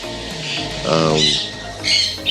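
Harsh bird squawks ring out in a few bursts, fairly close, with some background noise between calls.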